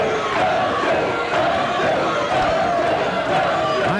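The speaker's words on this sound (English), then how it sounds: "I'm sure you can hear the crowd behind us yelling, Dungeon, Dungeon." A wrestling crowd at an Empire Pro Wrestling New England event chants 'Dungeon' in a steady, repeating roar, with loud, dense, rhythmic voices filling the arena continuously.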